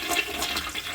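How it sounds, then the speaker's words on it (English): A toilet flushing with vinegar in the tank, a steady rush of water filling the whole second, close and continuous. "Let's flush it again."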